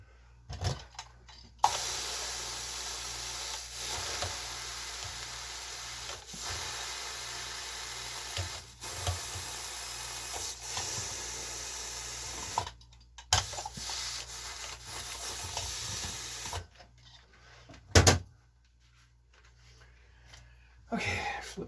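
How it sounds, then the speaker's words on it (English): A steam press blows steam through a pressing cloth in long, faint, hissing bursts that stop and restart several times, with soft clicks and thumps between them. "this can be a really good way to clean a kilt, a steam press like this"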